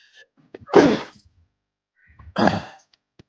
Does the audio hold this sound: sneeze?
yes